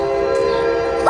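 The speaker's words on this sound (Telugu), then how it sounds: "సో మా ట్రైన్ కూడా వస్తుంది" A train pulls into a station in New York City, its horn sounding a loud, sustained, layered tone close by that holds through the moment, with a brief higher squeal near the end.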